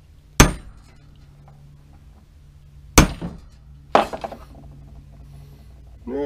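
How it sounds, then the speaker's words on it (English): Hammer striking a chisel to bend a metal strap hook in a makeshift home workshop: three sharp, loud metallic blows spaced a few seconds apart, each ringing briefly against a low steady hum. "we're gonna put a little bend in that with a hammer and a chisel."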